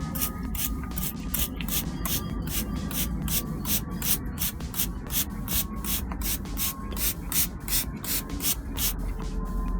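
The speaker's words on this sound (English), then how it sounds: "I'm just going to mist everything in, spreading everything out even more" Hand spray mister wetting freshly sown Massonia seeds on sand, giving a long run of short, evenly spaced hissing spritzes, about two per second, close and clear with no talking.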